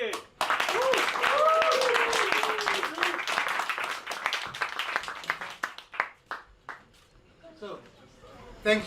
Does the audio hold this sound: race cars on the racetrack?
no